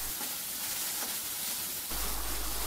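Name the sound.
stirring and frying spice masala for tripe curry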